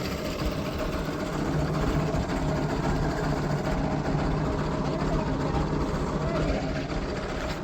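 A tractor's diesel engine drones steadily and loudly at close range, its low rumble unchanging throughout, with faint background noise.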